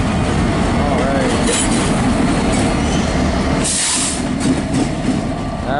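A CPKC freight train passes close by with a loud, continuous rumble of wheels and heavy rail cars and some rhythmic clatter. A brief hiss sounds partway through.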